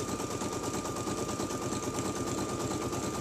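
An embroidery machine stitches a tack-down line on a round zipper bag in a 5x7 hoop, a steady, fast mechanical chatter with a constant hum running continuously and fairly close.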